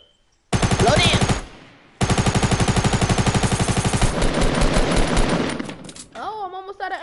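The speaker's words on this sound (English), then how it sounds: "Somebody over there just shot at us." Gunfire in the video game Fortnite: rapid automatic bursts of evenly spaced shots, close and loud, with a brief pause between volleys, ending in scattered game effects.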